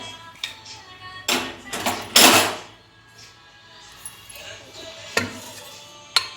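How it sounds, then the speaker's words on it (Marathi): A pressure cooker lid holding horse gram and green chili curry is worked loose and removed, giving a few sharp metallic clanks and scrapes amid quieter clinks, close by. "कुकरचं झाकण काढूया"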